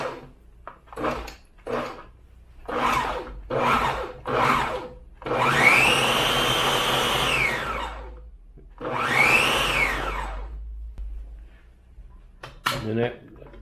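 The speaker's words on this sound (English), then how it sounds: "I like to pulse this a couple of times." A blender pulses roasted tomatoes and onions for salsa roja. Several short whirring bursts come first, then two longer runs, all close and loud, with brief quiet gaps between them.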